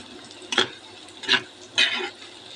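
Cumin seeds and onions are stirred while frying in a pan, heard as three distinct scraping strokes of a spoon across the pan, close and fairly loud over a faint sizzle.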